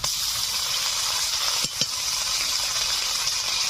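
Onions sizzle steadily in hot oil as ginger and cumin paste is added, a close, continuous frying hiss broken by a couple of brief clinks of a utensil against the pan.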